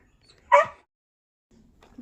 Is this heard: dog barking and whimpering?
yes